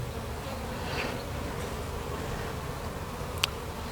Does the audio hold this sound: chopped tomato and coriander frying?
no